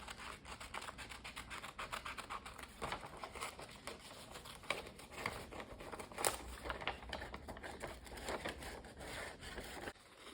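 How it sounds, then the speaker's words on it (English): Scissors cut paper while being shaken back and forth to give a ripped edge, making quiet, close, rapid repeated snipping and rustling scratches that continue steadily for about ten seconds. "I'm kind of shaking the scissors a little bit back and forth to try to give it more of a ripped look"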